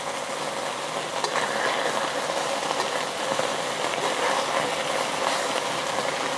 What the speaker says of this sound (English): Let it sear for another minute on the other side